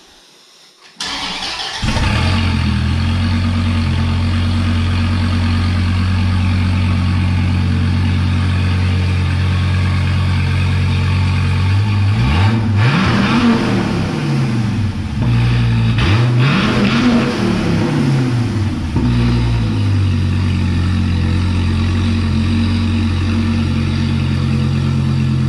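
A Gen 5 Dodge Viper's engine starts up, then idles with a deep, steady rumble that swells into several loud rising-and-falling revs before settling back to a constant idle. No one speaks.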